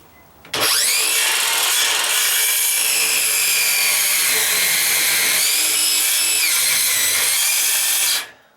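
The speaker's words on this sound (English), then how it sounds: "I may have to cut this one off with the Sawzall a little bit." A Sawzall reciprocating saw cuts through a wooden stair stringer during a dry-rot deck repair, a loud, steady buzzing cut that starts abruptly and runs unbroken for about eight seconds before stopping, with no voices.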